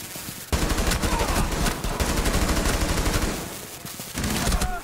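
Rapid automatic gunfire bursts out in a Rainbow Six Siege match, loud and sustained after a short quiet start, dipping briefly before another burst near the end.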